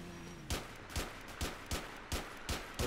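Rifle shots in GTA IV, a sniper firing from some distance, seven sharp cracks spaced roughly half a second apart, fairly quiet against a low background with no talking.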